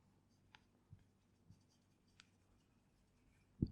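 Chalk or marker tapping and scraping on a board during a physics lecture on entropy, a handful of faint, sparse ticks and scratches in a quiet room with a louder knock at the end.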